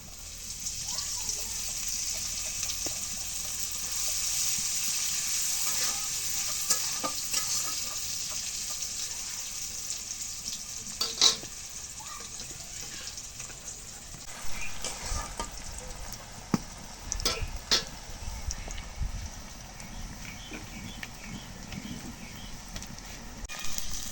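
Spices frying in hot oil in a pan give a steady, hissing sizzle across the whole stretch, with occasional utensil clicks and stirring scrapes, close and moderately loud.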